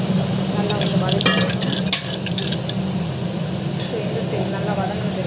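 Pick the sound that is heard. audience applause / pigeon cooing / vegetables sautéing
vegetables sautéing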